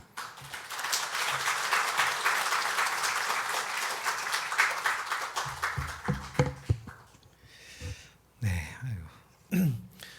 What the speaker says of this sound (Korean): 큰 박수로 목사님 환영해 주시기 바랍니다